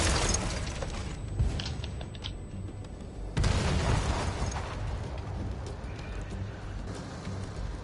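A loud burst as a tank's ammo rack explodes in World of Tanks on PS5, a sharp boom near the three-second mark followed by a lingering rumbling decay, with no talking.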